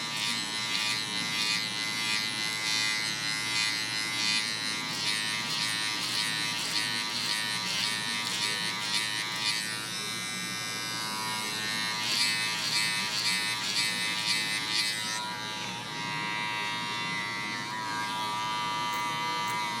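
Electric hair clippers fitted with a number one guard, lever closed, buzz steadily and close up during a self-administered taper haircut, with slight changes in tone as they move through hair.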